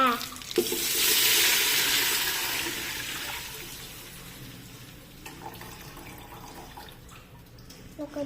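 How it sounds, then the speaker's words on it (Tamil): Mutton cooking broth pours into a pot with a rushing, splashing sound that slowly fades into a quieter simmering hiss, with a few faint clinks. "மட்டன் வேக வச்ச தண்ணியை ஊற்றிக்கோங்க"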